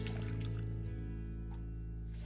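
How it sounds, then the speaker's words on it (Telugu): Half a cup of water pours into tomato dal, a brief running splash heard up close over a steady low background hum. "దీంట్లో 1/2 కప్పు నీళ్లు పోసుకొని"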